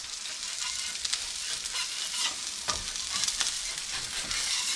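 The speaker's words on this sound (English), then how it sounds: "Just a couple minutes on the plancha so they get crispy." Birria tacos sizzle steadily on a hot plancha as they crisp, a continuous close, bright frying hiss with small crackles and pops and no talk.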